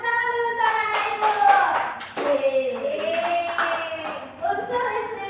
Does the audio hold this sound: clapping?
yes